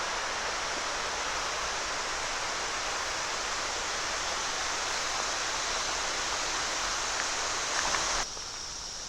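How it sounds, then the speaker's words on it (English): Pequea Creek flowing below a wooded trail, a steady, even rush of water heard from a distance, with no voices over it. "That's the Pequea Creek down there."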